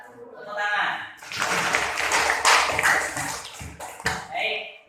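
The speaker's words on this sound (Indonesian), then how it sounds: "Tepuk tangan." Classroom applause breaks out after a group presentation in an Indonesian teacher-training lesson, a dense burst of many hands clapping close by, mixed with voices and chatter throughout, fading near the end.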